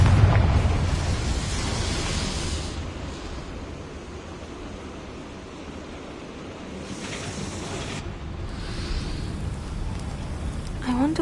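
A Confringo spell blast in a Harry Potter-style video game: a broad roaring rumble with hissing bursts that swells at the start and end of the stretch, loud throughout.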